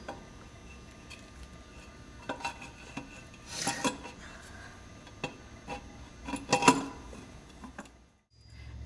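Intake manifold bolts on an AE86 engine are tightened with a ratchet and socket, making scattered close metallic clicks and clinks with a few busier bursts of ratcheting, then near silence at the end.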